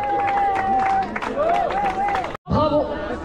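Crowd applause and cheering for finishers of a trail running race, Masters category, sounds under an announcer's amplified voice, with steady clapping and hubbub throughout and a brief drop-out near the end.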